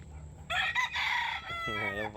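A rooster crows loudly and close by at a cockfighting tournament venue, one full cock-a-doodle-doo with a harmonic, wavering tail, and a second voice or call overlapping near the end.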